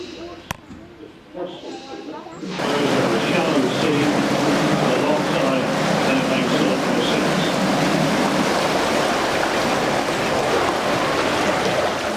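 A motor boat chugs through the Dudley canal tunnel, its engine noise filling the enclosed space with a dense, echoing roar that starts abruptly after a quieter moment and stays loud and steady.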